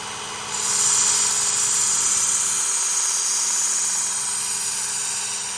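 A Work Sharp Ken Onion Elite knife sharpener spins up and its belt runs with a steady high-pitched whir, fairly close and constant, tapering off slightly at the end.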